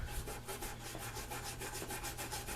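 A brush scrubs a very dirty, mud-caked Zebco 606 spincast fishing reel in quick repetitive strokes, a faint close rhythmic rubbing with no talk.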